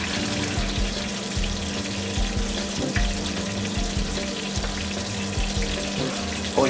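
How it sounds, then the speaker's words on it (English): Tomato marinara sauce bubbling in a pot on the stove, a continuous dense sputtering and burbling that stays close and steady with no voices. "sauce is boiling nicely"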